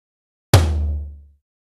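A single floor tom struck once, a deep booming hit that rings out and fades over about a second, alone with no other sound.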